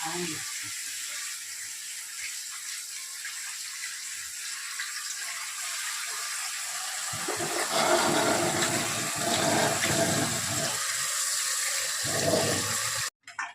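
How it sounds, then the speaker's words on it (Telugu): Fish pieces are washed with salt under running water, which gushes and splashes steadily and louder toward the end, with a voice talking over it. "కొంచెం కళ్ళు ఉప్పు వేసుకొని క్లీన్ చేసుకోవాలి"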